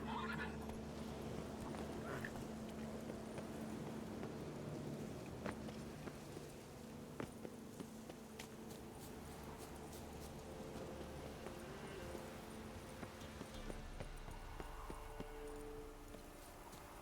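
A horse in The Witcher 3 runs with steady hoofbeats and snorts and whinnies, over a constant low rumble of background ambience, with no voices.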